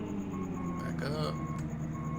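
A tractor reverses in Farming Simulator 2013, its steady electronic backup beeps repeating over a continuous engine drone, with a voice speaking briefly in between.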